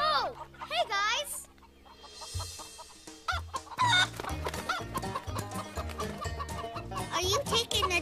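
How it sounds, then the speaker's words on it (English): Several loose backyard chickens clucking and squawking close by, with a rooster crowing and children and adults talking over the busy, rhythmic fowl chatter throughout. "Oh no, more chickens! More chickens!"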